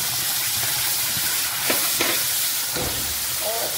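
Freshly ground masala sizzles in hot oil in a kadhai, giving a close, steady hiss with a few brief stirring scrapes.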